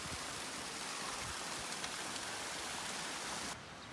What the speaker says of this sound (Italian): Ci avviciniamo alla cascata